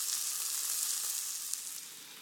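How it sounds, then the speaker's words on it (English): Food sizzles gently in a hot pan with oil, a steady soft crackling hiss that stays even throughout with no voices. "a gentle sizzling sound is generally more desirable"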